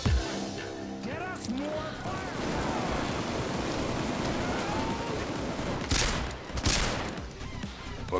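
Sustained bursts of automatic gunfire during a bank heist in the video game Payday 2, dense rapid shots throughout with two sharp louder blasts near the end, mixed with game effects.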